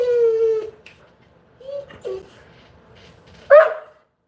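A single dog gives a drawn-out howling whine, then a pause, two short yips, and after another gap one sharp, loud bark close by, with no voices over it.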